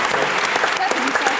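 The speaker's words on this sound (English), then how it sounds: "Big round of applause for the Islanders." An audience at a television industry festival applauds the Love Island Islanders, a brief burst of full, dense clapping filling the room.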